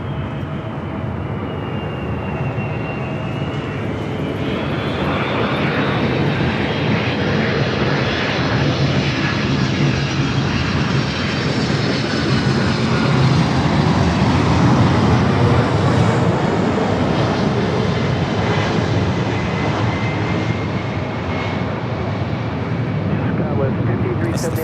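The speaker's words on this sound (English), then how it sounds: "Coming in from JFK, Delta 767 300 ER." A Delta Boeing 767-300ER arriving at LAX from JFK passes with a sustained, loud jet roar and a whining engine tone that rises and sweeps across, steady throughout without a break.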